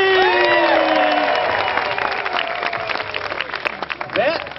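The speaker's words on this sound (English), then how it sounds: "we want everybody to clap their hands and make some noise" An audience at a Banana Derby show claps and cheers together on a count of three, a loud burst of applause and whoops with voices shouting over it that thins out toward the end.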